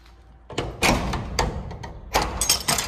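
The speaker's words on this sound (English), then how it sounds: "Let's go ahead and open this door right here." A new sliding shop door is pushed open, giving a series of rumbling rolls, clunks and rattling metallic thuds that come close and fairly loud.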